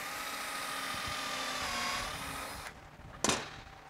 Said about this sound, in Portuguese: Já usando a broca escariadora